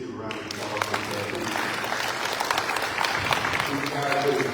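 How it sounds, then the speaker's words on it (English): Audience applause at an airport public stakeholders meeting for Natchez-Adams County Airport, a steady sustained clapping from a room of people with some voices talking over it. "please give a round of applause for Ted."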